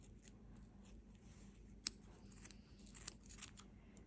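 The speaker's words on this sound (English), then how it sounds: "using scissors, just cut down the side of the fork" Scissors cut through cotton yarn wrapped around a fork for a mini hat on a wine bottle. Quiet soft snips and rustles repeat over a low steady hiss, with one sharper click partway through and no talking.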